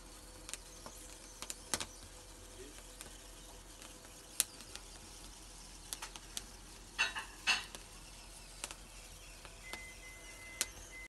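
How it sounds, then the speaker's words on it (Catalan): Rice dish ingredient frying in a pan for a Festa Major festival meal, a soft steady sizzle with occasional stirring scrapes and utensil clinks against the pan, close and fairly quiet, no talking. "fem que es fregeixi una miqueta"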